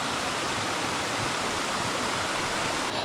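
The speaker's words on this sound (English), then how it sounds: "Been a really, really nice waterfall that we're enjoying here." A waterfall roars in a steady, unbroken rush of white noise, close and loud for the whole stretch with no other sounds on top.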